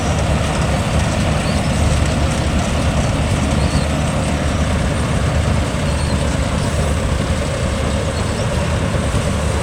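A John Deere 5405 CRDI turbo 4WD tractor engine runs quietly and steadily at close range, a continuous low diesel drone with no talking over it.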